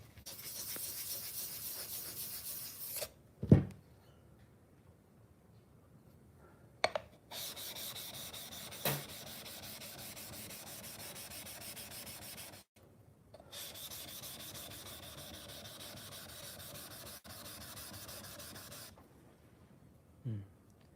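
A Japanese kanna plane blade being sharpened on a whetstone gives repeated rhythmic rubbing strokes with short pauses between passes and a couple of sharp knocks.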